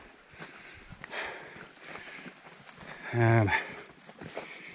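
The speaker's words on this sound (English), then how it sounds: "Lots of cows in here. We're spooking them." Free range cows moving along a mountain trail in central Utah, with scattered hoof clops and shuffling at close range and a brief loud low moo near the end, while a person speaks a word.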